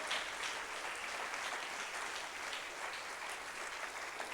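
A church congregation claps together in steady, dense applause, loud and continuous throughout with no voices on top.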